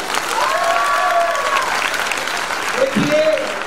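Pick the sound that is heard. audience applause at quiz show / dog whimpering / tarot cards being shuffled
audience applause at quiz show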